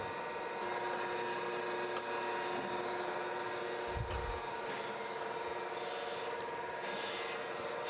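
An automatic surface grinder passes its wheel across a belt grinder platen to grind it flat, giving a steady, even rasping whir with a low thump near the middle and no talking.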